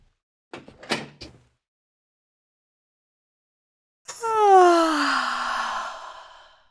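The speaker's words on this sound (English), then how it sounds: "Close the door, close that door." A door closes with a few sharp clicks and knocks close by, then after a silent pause a long, drawn-out creaking groan slowly fades away.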